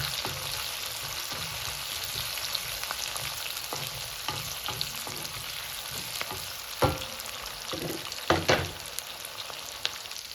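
Thick-cut onions frying in hot oil for a bottle gourd stew, a steady close sizzle with occasional sharp clatters of stirring near the end.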